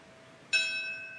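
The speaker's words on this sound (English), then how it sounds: "That is the sound of bells ringing at 9:37 this morning" A single bell strikes once at a 9/11 anniversary memorial service and its tone rings on, sustained and fading slowly, fairly faint and distant against a quiet background.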